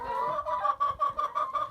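Chickens clucking steadily around a no-waste feeder, a close, busy chorus of short repeated clucks with a faint continuous tone running underneath.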